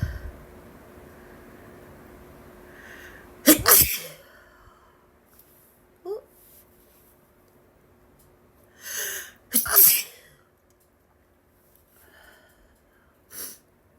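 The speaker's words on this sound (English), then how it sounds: "I have to sneeze." Several allergy sneezes burst out one after another, with a couple of sharp, loud explosive sneezes mid-clip and smaller snorts and sniffs between them, set against a quiet room with a faint steady hum.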